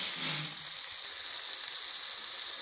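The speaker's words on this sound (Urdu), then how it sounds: "اس کے بعد اپنے کریلے ڈال دیں گے اس میں، اچھی طرح یہ ذرا فرائی ہو جائیں" Bitter gourds (karela) fry in a pan with a steady, even sizzle, a soft sustained hiss heard close and without interruption, and no one speaking.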